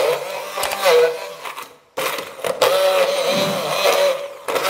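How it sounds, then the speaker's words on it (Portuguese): A kitchen blender whirs steadily as it grinds carrot pieces, the motor dropping out briefly and then starting up again at full, loud strength. "Você pode passar no seu liquidificador"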